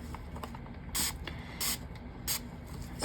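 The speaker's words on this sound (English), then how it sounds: "I'm dousing in alcohol." Alcohol sprayed onto a resin whale mold: three short, sharp hissing spray bursts spaced about half a second apart, close and fairly quiet, over faint handling clicks.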